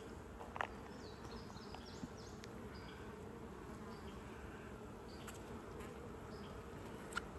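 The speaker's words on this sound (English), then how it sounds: "And bees are in this one, both of these." A steady, dense hum of honey bees fills an opened beehive during a spring inspection, a continuous drone with a few brief clicks and knocks from handling the frames.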